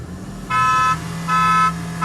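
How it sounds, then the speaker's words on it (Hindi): A car horn gives two loud, steady honks, each about half a second, signalling the start of a Toyota Fortuner versus Kia Seltos drag race, over a low idling engine rumble. "थोड़ी थोड़ी खोल लो बस, जो हॉर्न की आवाज़ सुन जाए"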